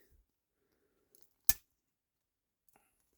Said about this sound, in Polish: Nożyczki.